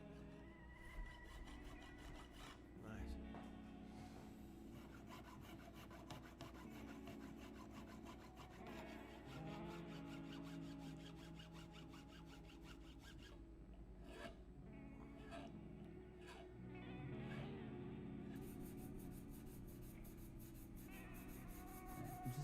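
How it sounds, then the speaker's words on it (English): Sandpaper of various grits is flapped and rubbed along the fret ends of a guitar, giving a steady raspy scraping with repeated strokes, faint and close, amid low background hum. "Just flapping some various grits of sandpaper along the fret ends, just to remove any of the file marks and any of the previous grits."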